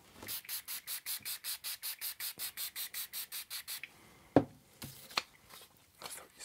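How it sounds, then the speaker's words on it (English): A CD is hand-sanded with 3000 grit sandpaper in a quick, even run of about fifteen rubbing strokes, followed by a pause and a few isolated clicks and soft scrapes. "So now we're going to the 3000 grit sandpaper and we're going to repeat the step."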